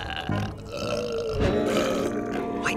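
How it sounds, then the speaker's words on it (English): A cartoon character lets out a long, loud, rumbling burp that rolls on for nearly three seconds, throaty and wavering. "Stop burping! Now burp louder."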